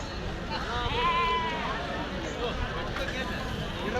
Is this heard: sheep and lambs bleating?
yes